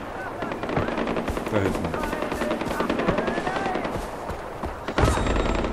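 Rapid automatic gunfire in Far Cry 4, a dense, continuous rattle of shots with a louder burst near the end, heard under a brief spoken remark.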